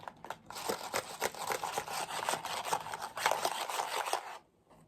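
Loose broken pieces rattle and clatter inside a box as it is shaken, a busy stream of close crinkly clinks that stops abruptly near the end.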